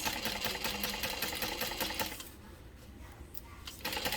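A sewing machine stitches a seam on a fabric backpack, whirring in a rapid, close burst for about two seconds. It then slows to quieter intermittent stitching and picks up again at the end.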